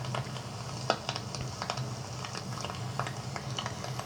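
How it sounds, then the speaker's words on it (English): Recorded rain layered with pink noise in a phone-made home atmosphere: a constant dense hiss with fine crackling patter scattered throughout and no voices. "So if I play the rain with the pink noise"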